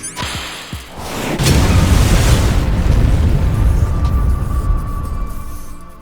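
Missile explosions in the Metal Gear Solid 2 video game, a couple of sharp pops and then a loud, sustained rumbling blast that slowly fades, close and heavy with no talk over it.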